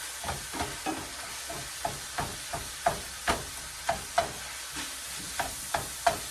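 Seasoning being mashed into shepherd's pie filling in a sizzling pan, a steady series of soft scraping, pressing thuds roughly every half second over a faint frying hiss, close and moderately quiet.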